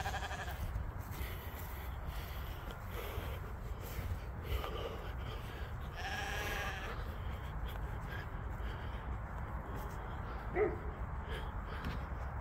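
Dorper sheep bleating on a farm at lambing time, with calls rising at intervals over a steady outdoor background and occasional other animal sounds.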